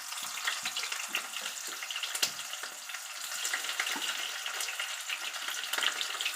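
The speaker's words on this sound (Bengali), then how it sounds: "জিরে, তেজপাতা, শুকনো লঙ্কা একটু ভাজা করার পর এই কেটে রাখা কুচো পেঁয়াজগুলো এর মধ্যে দিয়ে" Chopped onions frying in oil with cumin, bay leaf and dried chilli, a steady moderate sizzle with frequent soft stirring scrapes and small crackles, close, no talking.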